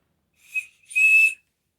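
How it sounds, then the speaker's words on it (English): A flat pocket-clip whistle gives two sharp, very loud, high-pitched blasts, a short one and then a longer sustained one, alone in silence. "These are just flat whistles. These here have pocket clips on them. They are extremely loud"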